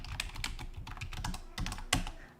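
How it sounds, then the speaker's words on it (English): Fingers type quickly on a computer keyboard, a close run of light, irregular key clicks with one sharper tap near the end and no talking. "My typing skills are not working with me today."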